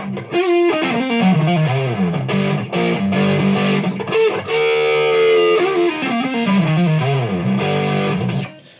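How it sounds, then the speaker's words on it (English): Heavily distorted electric guitar through a Behringer OD300 overdrive/distortion pedal plays a thick, saturated riff with sustained chords and bends, loud and upfront with no talking. "I think the distortion is just too thick, too fat, not enough mid-range in it"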